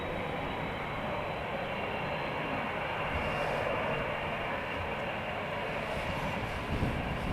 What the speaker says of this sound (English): the Dreamliner has just turned onto the runway